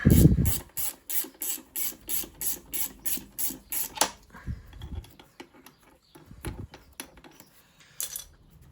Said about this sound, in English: I'm using a ratchet spanner, you can use a socket